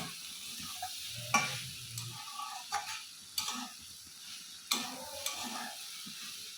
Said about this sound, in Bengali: দিয়ে এবার গ্যাসটা আস্তে দেব, দিয়ে এটাকে ভালো করে কষিয়ে নেব।